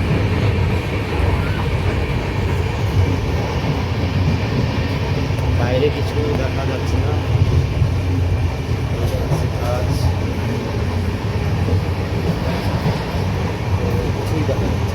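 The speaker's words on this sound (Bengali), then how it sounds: "তো ট্রেন কীভাবে ছোটে রাত্রিবেলায়," Train running at night through Assam on the approach to Guwahati, a loud continuous rumble and rattle of wheels and carriages heard from inside, with a person speaking briefly over it.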